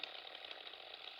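A saw in a horror elevator video game buzzes in a steady, gritty drone, quiet and continuous for a brief moment with no voices.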